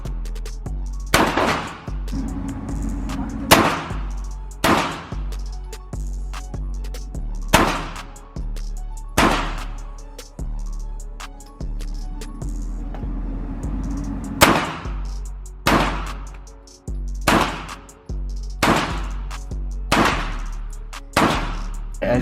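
Shots from a P80 Glock 26 pistol at a shooting range, a series of sharp loud bangs spaced a second or two apart, with faint talk between shots.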